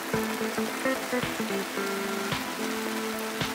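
Light rain patters on a camping tent with the mesh door closed and the solid flap rolled up, a steady soft drumming with scattered sharper drops striking the fabric, close and continuous, with no voices.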